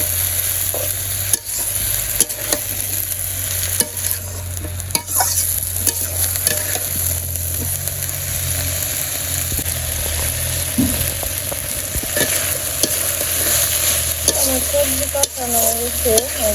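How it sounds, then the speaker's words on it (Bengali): Vegetables with chili and turmeric powder are stir-fried in a village kitchen pan, with a loud continuous sizzle and repeated scraping stirs up close, and no talk. "হলুদের গুঁড়া দিয়ে দিলাম তখন সবজিটা ভালো করে কষে নেই"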